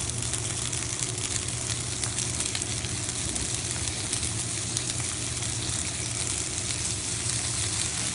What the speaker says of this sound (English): So about 2 tablespoons of butter